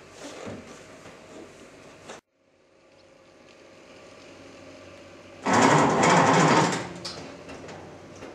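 A rally car engine with the choke applied gives a low churning sound, cuts out briefly, then builds up and ends with a loud burst of running or cranking for about a second before dropping back.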